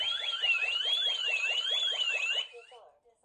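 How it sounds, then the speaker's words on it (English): A Ring Alarm home security siren going off after a door contact sensor is tripped, a loud rapid pulsing electronic wail that holds steady for over two seconds before cutting off, heard close. "and you'll hear the alarm go off."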